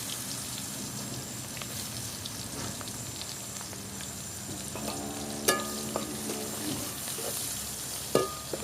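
Onion fries in hot oil with dried red chilli and nigella seeds for a pangas fish curry, a continuous loud sizzle with occasional stirring clinks and a sharp utensil tap near the end.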